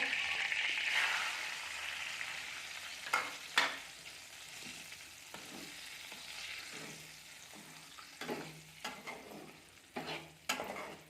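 Broken wheat (dalia) roasting in ghee for barfi, a soft continuous sizzle with intermittent scraping stirs and clinks of a spoon against the pan, fairly quiet and close, no talk.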